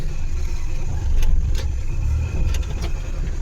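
A Maruti Omni van engine with a gear problem runs with a steady low rumble, rising briefly in intensity as it revs, with a few faint clicks above the drone.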